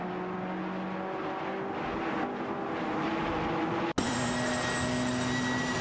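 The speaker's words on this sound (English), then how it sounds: "there's an intense battle for the 30th position between Everlasting Apex in a Peugeot 207 GTI and Sputnik NZ in an Infiniti Q50 Eau Rouge" Racing video game cars, including a Peugeot 207 GTI and an Infiniti Q50 battling near Eau Rouge: a steady, dense engine drone with a brief cutout partway through, then continuing.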